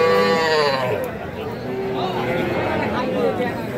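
At a Bangladeshi cattle market, a heifer calf lets out a loud, close, drawn-out moo that rises and falls, followed by a second shorter call amid crowd chatter and nearby voices.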